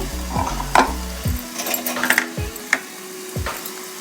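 Thin-cut ginger pieces are stirred into a brinjal curry frying in a pan, making a soft sizzle with sharp scrapes and clinks of a spoon, close and clear with no talk.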